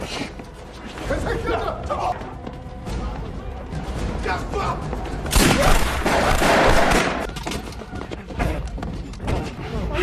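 Bursts of gunfire from gangsters outside a casino and crashing impacts ring out amid loud, dense action noise in the film Time to Hunt (2020), with voices talking and shouting over the commotion.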